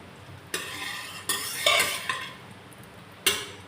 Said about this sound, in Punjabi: ਡਰਾਈ ਫਰੂਟ ਨੂੰ ਆਪਾਂ ਹਲਕਾ ਜਿਹਾ ਸੇਕ ਲਵਾ ਲਾਂਗੇ